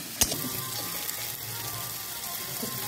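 Onions fry in a pan with salt added, a steady close sizzle with one brief clink near the start, no talking.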